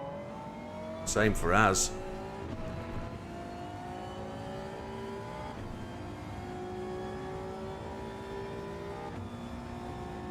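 A Gran Turismo 7 race car engine drones on and shifts pitch through a slippery off-camber corner, with a commentator speaking briefly near the start over the steady engine tone.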